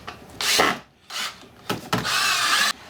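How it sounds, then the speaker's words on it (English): A power drill boring a pilot hole in wood for a bathtub caddie, sounding as three loud whirring bursts of varying length separated by short pauses, close by with no talk. "So I'm going to go ahead and continue this middle pilot hole"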